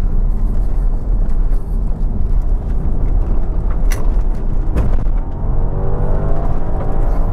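Heavy Audi quattro, about 5660 pounds, on Toyo Proxes Sport A/S XL tires, pushed hard through a curve: a steady, loud drone of engine, tire and road roar with brief louder swells, no talk.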